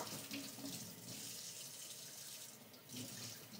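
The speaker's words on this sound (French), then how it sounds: "Je rince mes aubergines." Aubergines rinsed under a running kitchen tap, a steady hiss of flowing water splashing into the sink, quiet and continuous, with no talk.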